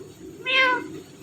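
Pet parrot mimicking a cat's meow, one clear, close rising-and-falling mew of under half a second against a quiet background.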